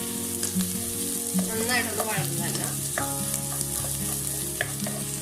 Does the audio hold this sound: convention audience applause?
no